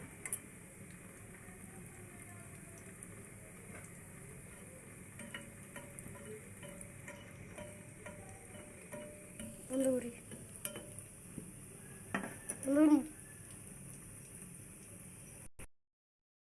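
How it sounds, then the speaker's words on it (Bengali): Chicken frying in a pan makes a faint, steady crackle with occasional ticks, and a few louder scrapes and clinks of a utensil near the end before it cuts to silence. "এখন এই পিট পিট করে ভেজে নিচ্ছি।"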